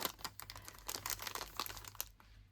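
Paper envelopes are handled and shuffled up close, with quick crinkles, rustles and soft taps in an irregular run, quiet and with no talking.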